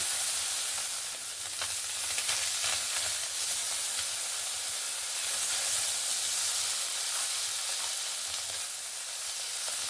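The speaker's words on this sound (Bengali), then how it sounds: "বাদ বাকি মাছগুলোও আমি সেভাবে ভেজে নেব।" Hot oil sizzles and hisses steadily as small sea fish fry in a wok, a loud, even crackle lasting throughout with no talking.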